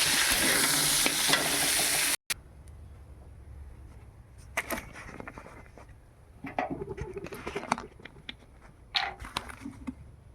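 Oil sizzles loudly at first as pointed gourd finishes frying, then gives way to a quieter kitchen with intermittent clatter and stirring noises.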